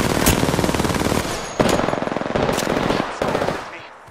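Rapid automatic gunfire from an Apex Legends match on Xbox, several loud close bursts of fast shots with short gaps between them, no talking.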